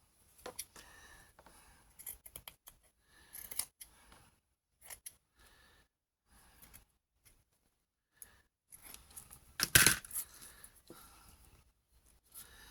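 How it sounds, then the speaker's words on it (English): Scissors snip off craft material in short, close, crisp cuts, scattered irregularly with quiet gaps and one louder cluster of snips near the end, no talk. "Let's cut some of this off."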